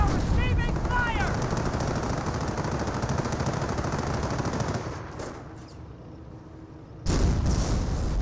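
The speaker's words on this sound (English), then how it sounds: "We're receiving fire!" Dense bursts of game gunfire and machine-gun rattle from a Company of Heroes battle, loud and continuous, thinning out briefly before erupting again near the end.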